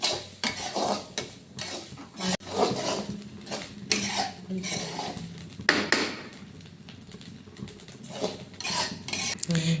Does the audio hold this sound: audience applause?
no